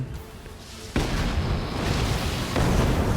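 A loud, sudden boom from a cannon in a video game hits and then gives way to a sustained roaring rumble, followed by a second surge of blast noise.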